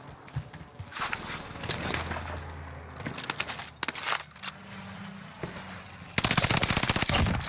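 Cooper Carbine fire in Call of Duty Vanguard Warzone, with scattered shots and short bursts amid game sounds, ending in a loud, rapid sustained automatic burst up close.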